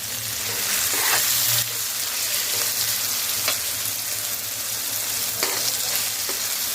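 Mild sweet chillies with gram flour and salt sautéing in a pan, a loud, steady sizzle with repeated scraping stirs of a spoon, close up and without talk.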